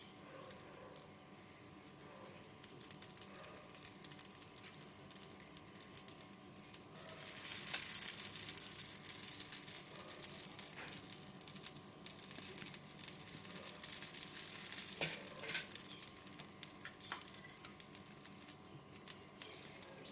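Mini dosa batter and potato masala sizzling on a hot griddle, a steady hiss and crackle that swells louder from around the middle and carries on continuously.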